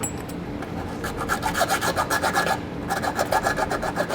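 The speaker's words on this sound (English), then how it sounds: "You can take a file and just file the side of that down a little bit." A hand file rasps at the edge of an access hole in a steel hitch mount during a Curt trailer hitch install on a 2015 Volkswagen, giving loud, close, rhythmic back-and-forth strokes with a short pause midway and no voices.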